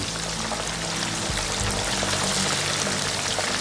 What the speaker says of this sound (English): whenever it gets to where that oil is filling up the cavity